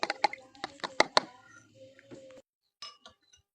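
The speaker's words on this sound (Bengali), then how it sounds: "তাই সবগুলা চামচ দিয়ে ভালো করে ঘুটে নিচ্ছি" Spoons stir homemade Holi colour powder mixed with rose water, producing a quick series of light, close metallic clinks against the container that fade into a few softer taps.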